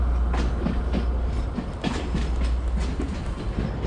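A train at a railway station in Sri Lanka, with loud, continuous rumbling and rhythmic clickety-clack of wheels over the rail joints close by, and no voices.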